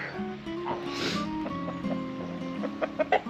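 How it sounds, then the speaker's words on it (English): Chickens cluck near a duck pond at a Nottinghamshire farm campsite, with several short, fairly close clucks growing louder toward the end over a faint background murmur. "Chickens and duck."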